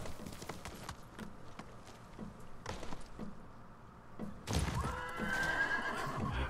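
Horse whinnies and neighs in the Ghost of Tsushima video game, with clip-clopping hooves. Several calls come through, and a loud, close burst of neighing arrives near the end.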